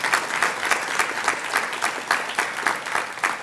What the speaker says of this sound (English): Let's give him a huge round of applause for what he is doing for us.